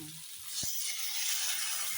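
Water poured into a chickpea and jackfruit curry in a hot pan, a single quick knock followed by a rising, steady hiss and sizzle, close and fairly soft.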